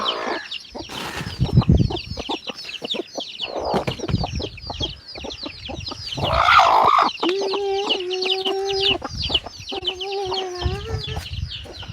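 A flock of chickens clucks steadily nearby, with louder drawn-out squawks and cackles breaking through partway and repeating toward the end.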